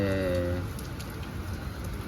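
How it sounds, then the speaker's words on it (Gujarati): Steady rain falling on a surface nearby, a dense continuous patter, with a brief low hum fading out at the start. "અને વરસાદ પડતા હે."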